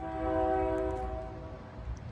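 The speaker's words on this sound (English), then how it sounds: "that beautiful Silver Line of 5 horn you hear at 529 is for train 5227" A SEPTA Silverliner V electric multiple-unit commuter train sounds its horn on the Jenkintown–Lansdale line: a sustained, chord-like blast that fades over about a second, then a low rumble of the train rolling past at moderate distance.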